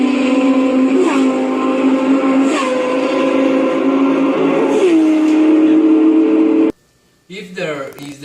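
A train horn sounds loud and close in several sustained tonal blasts that bend in pitch, then cuts off abruptly, followed by a short burst of noise.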